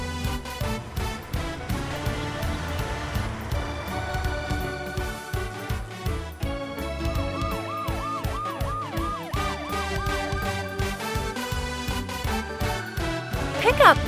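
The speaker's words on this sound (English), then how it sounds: "Police car." A police car siren wails in a repeating up-and-down pattern over a busy mix of traffic and engine noise, loud and continuous for the whole stretch.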